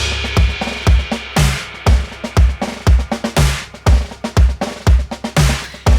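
A marching snare part in a new take recorded with a room mic, crisp snare strokes and flams over deep kick hits in a steady march rhythm, loud with a roomy, slightly distant ambience.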